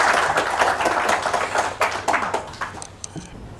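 An audience at a heated religious debate claps together, a brisk patter of individual hand claps that thins and trails off into a few scattered claps by the end.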